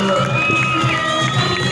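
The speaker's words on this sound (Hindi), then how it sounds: "तालियां होनी चाहिए" Crowd of children at a welcome performance event cheering and shouting together, a loud sustained din of young voices with scattered clapping mixed in.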